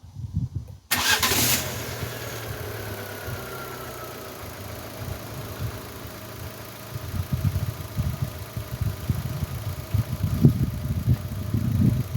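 An old Fiat 500 fresh from basic servicing with new oil and filters cranks and fires, then settles into a rough, rumbling idle that swells unevenly in the later seconds, close and alone.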